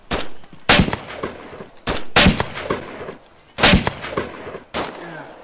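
Gunfire in the survival video game DayZ: four loud, sharp shots spaced roughly a second and a half apart, each with a short echoing tail, and no talking over them.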